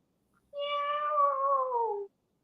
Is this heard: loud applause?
no